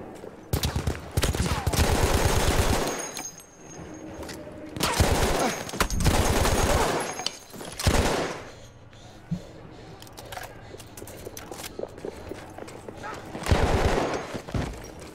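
Bursts of gunfire in Battlefield 1, loud clustered volleys in a few separate stretches with quieter gaps between, and some talk in between.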